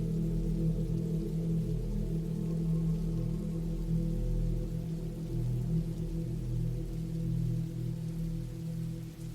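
Steady rain falls outside a cabin in the woods at night, a continuous low, dense patter and hiss without breaks, moderately loud and alone with no voices.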